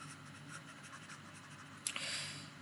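Faint scratchy strokes of writing on a board during a lecture, soft and intermittent, ending in a brief sharper scrape near the end, with no talking.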